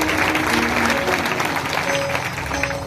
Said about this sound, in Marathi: एकदा जोरदार टाळ्या त्या श्रेष्ठांसाठी झाल्या पाहिजे